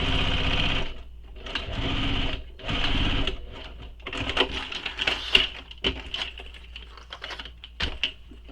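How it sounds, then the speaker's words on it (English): A sewing machine top-stitches through the thick layers of a bowler bag in several close, loud bursts of rapid clattering stitches. Short pauses separate the bursts, and the later stretches are quicker and more uneven. "we do have all the layers that we're trying to push underneath the machine"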